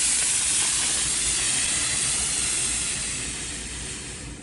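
Steam hisses steadily from a Bissell PowerFresh 1544A steam mop, a loud broadband rush that holds and then slowly tapers off, with no voices.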